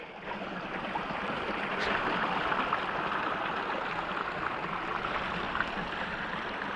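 Steady rushing and gurgling of a small creek at a gold-prospecting site, continuous and close, with no voices.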